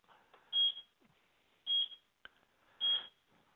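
A Ksenia lares alarm system sounds three loud, sharp electronic beeps at a steady interval of just over a second, close and clear, with faint clicks between them.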